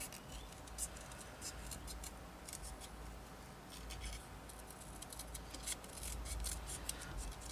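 Scissors cut out a paper sentiment for a stitched Christmas card, producing a long run of quiet, close, crisp snipping and rustling in irregular bursts.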